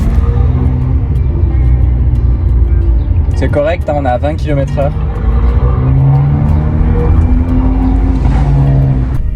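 Audi TT coupé engine and exhaust rumbling steadily at low speed around 20 km/h, a constant deep drone under someone speaking French throughout, with a short rise mid-way.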